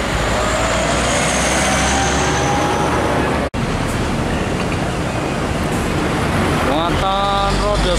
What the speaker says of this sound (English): tangki trailer Isuzu Giga